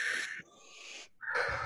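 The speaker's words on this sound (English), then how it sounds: "now we take a nice deep breath in and out" A person takes a deep breath in and lets it out, close to the microphone: a breathy, slightly wheezy inhale, a brief pause, then a strong airy exhale, with no speech.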